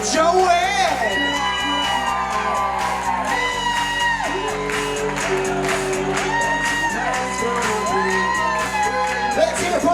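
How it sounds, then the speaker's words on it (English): Wedding reception guests cheering, whooping and clapping for the bride's parents as they are announced, crowd noise mixed with loud music and a voice speaking over the top. "let's put those hands together and make some noise for the mother and father of our bride"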